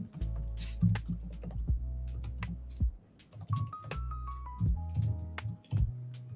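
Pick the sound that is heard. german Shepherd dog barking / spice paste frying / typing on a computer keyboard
typing on a computer keyboard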